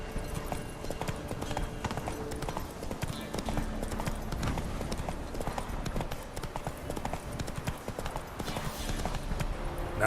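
Roach, a horse in The Witcher 3, gallops with steady, rapid hoof clip-clops throughout, loud and close over game music and ambient background.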